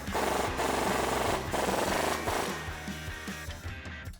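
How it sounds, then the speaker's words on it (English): A socket wrench tightens a lower bolt on a Jeep Gladiator's Rough Country suspension lift, a dense close-up rhythmic ratcheting and grinding of metal that runs steadily and eases slightly toward the end. "Now first we're gonna tighten down this lower bolt using a 14 or 9/16 socket and wrench."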